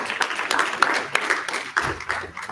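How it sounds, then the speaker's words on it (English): Audience applause after a conference panel discussion at a Paris blockchain event, a dense continuous patter of many hands clapping at moderate distance, steady through the whole stretch. "All right, please give these guys a round of applause."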